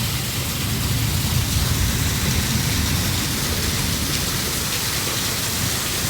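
Steady heavy rain falls in Kolkata, a constant broadband hiss of drops on surfaces with no speech.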